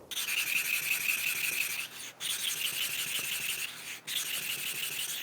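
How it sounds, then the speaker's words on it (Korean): Steady abrasive rubbing of a 400-grit flattening stone against a sharpening whetstone, continuous grinding strokes with two brief pauses, close and fairly loud. "이 400방 평탄화 숫돌을 사용하면은 속도도 되게 빠르고 힘이 좀 덜 들어요."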